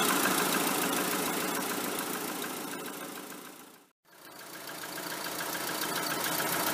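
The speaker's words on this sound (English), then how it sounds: "as you can see it's all running nicely, and also the compressor is running" A Rover 45 engine runs steadily with the air conditioning compressor engaged after a recharge, a constant mid-pitched mechanical hum with a brief cut near the middle before resuming.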